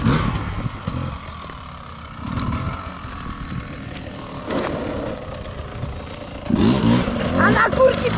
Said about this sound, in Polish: Tata mi rozgrzał motor